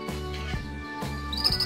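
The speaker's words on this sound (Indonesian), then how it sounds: "Nah, ini burung perkututnya" A zebra dove, a local perkutut, calls near a house in the village, soft tonal cooing notes in a short repeated pattern, close and fairly quiet, with a faint high chirp near the end.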